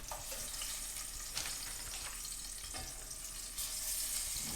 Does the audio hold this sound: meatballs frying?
yes